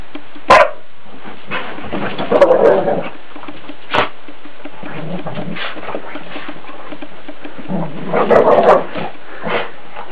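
Ginger the dog scuffles at her bed indoors, close and loud, with sharp bursts of snarling, barking and pawing separated by quieter scratching and rustling.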